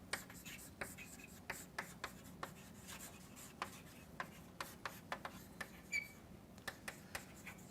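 Chalk or pen taps and scratches on a board during a lecture on probability, a steady run of short, crisp strokes about every half second, close and moderately quiet against faint room noise.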